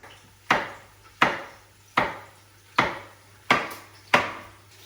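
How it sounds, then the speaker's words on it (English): Knife chopping vegetables on a wooden cutting board for a courgette and chicken soup, six sharp evenly spaced chops about a second apart, close and clear with a low steady hum beneath. "Now, during that, we have to cut the vegetables."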